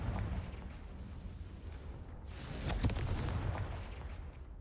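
The Confringo blasting spell from Hogwarts Legacy exploding, a faint low rumble that swells into a burst near the middle and then fades.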